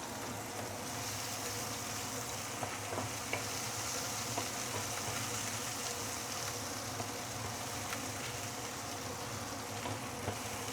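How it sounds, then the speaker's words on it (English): Aromatics sauté in oil for steamed ribs, a dense, steady sizzle with faint clicks of stirring, continuous and fairly quiet with no talking. "Just saute this for a minute or two before we continue"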